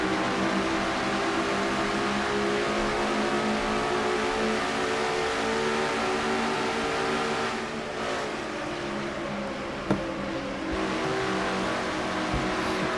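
Onboard engine sound from Dylan Young's number 2 race car in a NNSCRA Castrol GTX Cup Series race at around 184 miles an hour, a loud sustained high-revving drone with a brief dip and a sharp click near the end.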